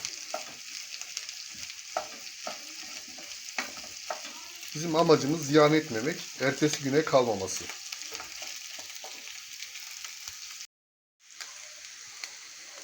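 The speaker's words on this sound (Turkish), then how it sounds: "pilavımız kavruluyor artık çatır çatır ediyor" Rice sizzles and crackles steadily as it toasts in a pot for pilaf, with stirring scrapes in the middle and a person speaking quietly over it.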